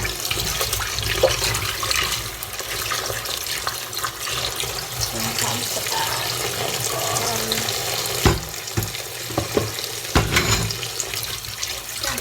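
Sweet mushrooms being washed under a running tap, with a steady rush of splashing water and occasional louder knocks and clatters near the end, close and loud with no talking.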